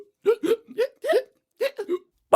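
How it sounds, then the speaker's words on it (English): Cartoon-style hiccups voiced by storytellers in a kids' story about worms riding horses, a rapid series of short bright vocal hics in uneven rhythm, close and fairly loud. "Everyone has hiccups."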